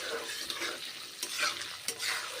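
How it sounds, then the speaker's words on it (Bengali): Paneer cubes frying in a pan hiss and sizzle steadily while being stirred and turned, with a few scraping strokes, close by. "পনিরগুলোকে আমি এখন ভেজে নিচ্ছি"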